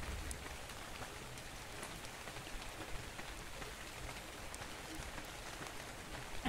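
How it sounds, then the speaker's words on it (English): Steady, dense rain patters down across a video game landscape in ARK: Survival Evolved, a continuous hiss of drops on surfaces with no voices over it. "Oh no, it's raining."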